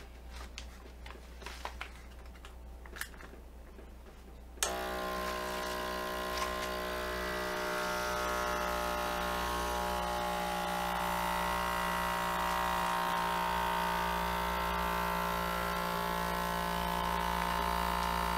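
A Sinbo DZ-280 snorkel vacuum sealer's pump switches on and runs with a steady, loud electric motor hum and whine that continues unbroken to the end, after a few seconds of quiet handling noises.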